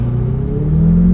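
A Ferrari 488 fitted with a Novitec exhaust drives off, its engine a steady, loud low rumble that rises slightly in pitch as it pulls away.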